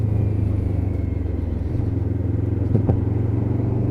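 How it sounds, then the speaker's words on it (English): Lexmoto LXR 380cc sports motorcycle engine droning steadily at close range, its pitch stepping down partway through as it rev-matches down the gears, with a faint clatter near the end. "it does rev match down through that gearbox absolutely lovely"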